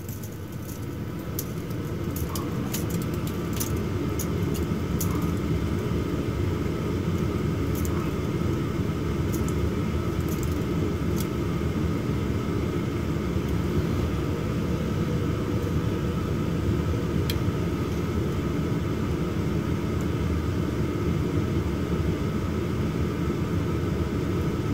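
A furnace inducer draft motor on a new heating system runs with a steady low rumbling hum, constant and fairly loud throughout, with faint ticks on top.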